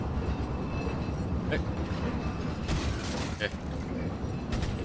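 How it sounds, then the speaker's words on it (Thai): A moving train in the video game Resident Evil 4 gives off a continuous low rumbling clatter, broken now and then by brief sharp bursts. "ไอ้ รถไฟนี่มัน เคลื่อนที่อยู่ฮะก็เลยยิงยาก"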